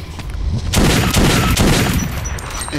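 Gunfire in the Metro 2033 video game, a loud burst of rapid shots with booming reverberant tails that fill the whole moment.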